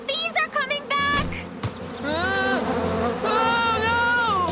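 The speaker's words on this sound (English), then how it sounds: "The bees are coming back!" A swarm of cartoon bees buzzes with wavering, high-pitched drones that rise and fall, loud and close, overlapping with brief character voices at the start.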